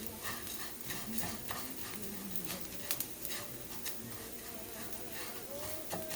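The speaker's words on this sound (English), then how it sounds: "toasting it in 3 tablespoons of oil" Long grain rice, Mahatma brand, toasting in three tablespoons of oil in a pan, with a soft steady sizzle, occasional stirring scrapes and light clinks throughout.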